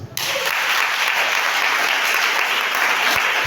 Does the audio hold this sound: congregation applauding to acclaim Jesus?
yes